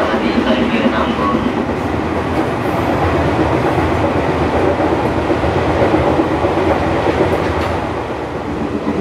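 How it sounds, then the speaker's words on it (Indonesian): Steady, loud rumble of a train rolling over rails toward Nambo station, with a continuous repetitive thumping beat from unturned, flat-spotted wheels throughout. "Rodanya belum dibubut, jadi bunyi deg deg deg deg deg deg gitu."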